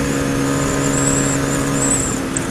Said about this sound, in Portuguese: Olha os caminhão.